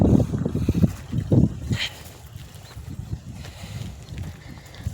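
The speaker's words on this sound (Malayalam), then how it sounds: "നമ്മൾ വാഴ വെക്കാൻ വേണ്ടി ട്രാക്ടർ പൂട്ടുവാണ്" Tractor ploughing a field in Kerala to prepare for banana planting: a low rumbling engine drone with lumpy bursts in the first two seconds, then a steadier, quieter churn under wind noise.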